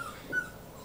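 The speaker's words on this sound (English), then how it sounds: "My dog's upset." A dog whimpers in a brief, faint, high whine that swells slightly in the middle, heard close by on its own with no talking.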